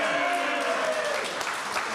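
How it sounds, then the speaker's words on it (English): Audience applause at a live footy show, a dense steady wash of clapping with a voice over it, even and moderately loud. "A big round of applause for them."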